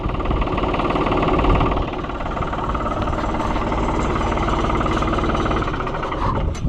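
A New Holland TN75 tractor's diesel engine runs steadily with a close, loud knocking rumble and constant vibration throughout, no talk.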